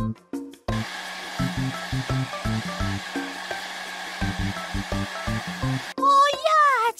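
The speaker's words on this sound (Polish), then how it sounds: "Chwyć za suszarkę i z wciśniętym lewym przyciskiem myszy wysusz kangurka." A hair dryer in a children's video game blows steadily for several seconds, a continuous whooshing hum used to dry a plush kangaroo toy, with bouncy game music underneath and a brief voice at the end.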